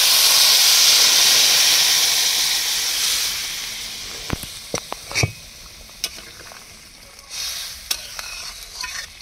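Hot water pours into a pan of simmering potato and Malabar spinach curry, giving a loud rushing hiss that fades, followed by scattered clinks and light bubbling from the pot.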